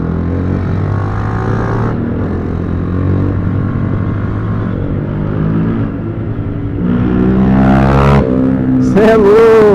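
A Honda XRE motorcycle engine drones loudly and steadily up close, its pitch rising as it revs harder toward the end, with sharp bursts that fit exhaust pops; people talk over it.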